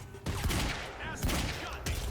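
Enemy gunfire in the video game Quantum Break, several bursts of shots crackling in quick succession at close range, with talk running faintly underneath.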